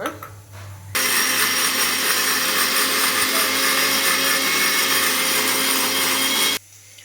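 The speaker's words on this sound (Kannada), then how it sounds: "ಇದಕ್ಕೆ ಸ್ವಲ್ಪ ನೀರನ್ನು ಸೇರಿಸ್ಕೊಂಡು ರುಬ್ಕೊಳ್ಳೋಣ" A mixer grinder whirs loudly and steadily for about five and a half seconds as it grinds chili powder and water into paste, then cuts off abruptly, with quiet gaps before and after.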